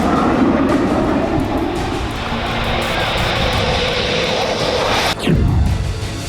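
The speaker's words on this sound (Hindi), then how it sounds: "गंगा एक्सप्रेसवे पर राफेल लड़ाकू विमान को उतारा गया।" Rafale fighter jet on the Ganga Expressway, a loud continuous roaring jet engine rush filling the whole clip, with a sharp shift in pitch near the end as it passes close by.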